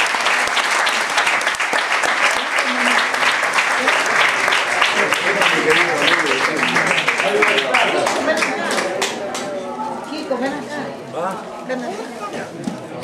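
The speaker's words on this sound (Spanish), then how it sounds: "hay que reiterarle ese aplauso a nuestra amiga querida" An audience at a tribute event in a museum in Guayaquil, Ecuador applauds loudly in dense sustained clapping that thins out toward the end, with talk and chatter mixed in.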